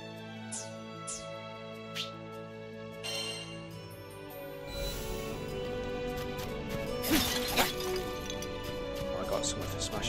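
Crates and objects shattering in Granblue Fantasy: Relink, a few sharp crashes and clinks scattered among game music and ambience, with someone talking over much of it.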